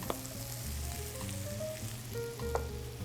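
Diced sweet potatoes, red onion and zucchini fry in a pan with a steady, moderate sizzle, broken by a few soft clinks of a utensil against the pan.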